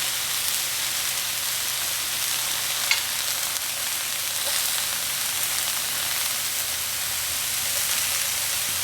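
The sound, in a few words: white parts of onions sizzling as added to chicken stir fry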